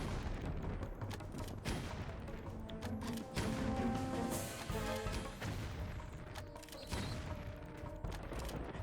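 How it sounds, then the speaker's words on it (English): Grenades exploding in Tomb Raider: The Last Revelation Remastered, loud booming bursts over dense continuous game noise and rumble. "let's use some beautiful grenades"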